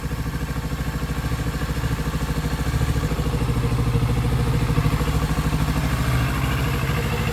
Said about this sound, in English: It sounds like a parallel twin, of course.